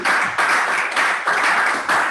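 Applause from an audience at a press conference launching e-payment certifications, a short burst of dense clapping that swells and dips in a few waves, fairly close, with no talking over it.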